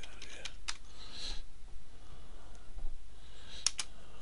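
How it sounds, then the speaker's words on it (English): Typing on a computer keyboard, a few scattered soft key clicks with two sharper taps near the end, quiet and close against a low room hiss. "pardon my typing"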